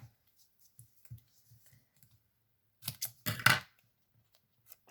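Scissors trimming a feather close up: a few faint isolated snips, then a short cluster of sharper cutting clicks, with quiet pauses between.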